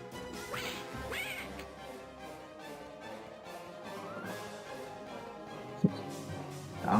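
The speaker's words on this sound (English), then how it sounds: "Donald's gonna be quacking, it sounds like." Donald Duck quacks amid busy game music and effects in the PS1 platformer Goin' Quackers, with a sharp thwack landing near the end, all fairly quiet.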